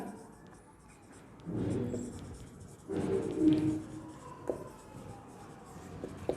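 A pen scratches across paper while working a math proof, in short bursts of close, soft scribbling separated by brief pauses.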